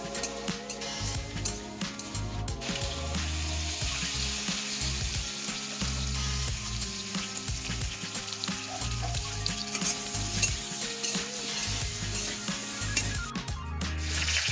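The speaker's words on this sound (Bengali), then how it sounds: "অল্প একটু তেল দিয়ে সামান্য পরিমাণ লবণ ও হলুদ দিয়ে আলুটা ভালো করে ভেজে নিলাম" Potato pieces fry in a little oil with salt and turmeric in a home kitchen, giving a steady, close sizzle with occasional stirring scrapes throughout.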